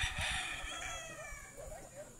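Fighting roosters at a farm area crow at a distance, with faint drawn-out calls and some clucking against a low background of outdoor noise and murmuring voices.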